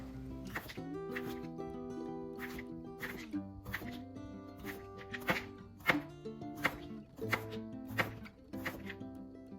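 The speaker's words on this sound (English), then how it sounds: "So all you need to do is cut off the ends and slice into about 1/8 of an inch thick chips." A knife slices zucchini into thin chips on a cutting board, making a run of crisp, evenly spaced chops close by, with faint background music underneath.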